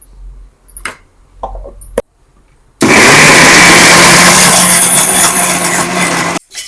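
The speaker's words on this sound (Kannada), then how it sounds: "ಈಗ ಇದನ್ನ ಮಿಕ್ಸಿ ಮಿಕ್ಸಿ ಜಾರ್ಗೆ ಹಾಕೊಂಡು ಸ್ವಲ್ಪ ಇದನ್ನ ಗ್ರೈಂಡ್ ಮಾಡ್ಕೋಬೇಕು" A kitchen mixer grinder loudly blends mushroom biryani masala with a little water, a continuous harsh whir that starts abruptly after a few soft preparatory knocks and runs steadily for several seconds before cutting off.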